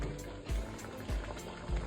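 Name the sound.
water poured into pot for Iraqi meat stew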